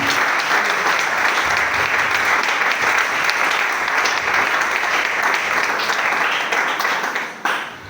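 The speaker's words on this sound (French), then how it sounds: "Est-ce que nous pouvons acclamer pour la parole de Dieu?" A church congregation breaks into loud, sustained applause praising the word of God, many hands clapping densely together before the sound tapers off at the end.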